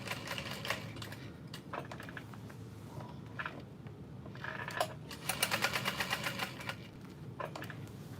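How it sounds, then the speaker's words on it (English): Sewing machine stitching a square around the entire connector of a messenger bag, running in several bursts of rapid mechanical clatter with short pauses between, close and steady, with no talk. "I'm going to sew a square around the entire connector."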